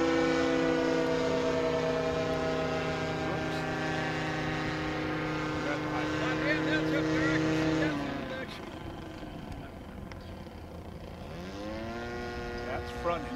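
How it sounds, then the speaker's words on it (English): A model Cessna Skymaster 337 twin-engine aircraft in flight: droning, buzzing engine whine holds a steady pitch, then drops and shifts as one motor cuts out, before rising again; continuous and fairly close. "Front engine's back on now, okay? Take it up high."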